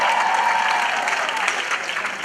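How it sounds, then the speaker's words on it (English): Applause from a live comedy audience, a dense steady burst of clapping that stays loud and full for a couple of seconds, with no other sound over it. "But a round of applause to the guy."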